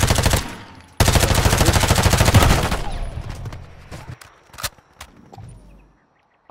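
Video game gunfire with a shotgun in play: a loud burst of rapid repeated shots, then a few scattered sharp cracks and thuds that fade toward quiet.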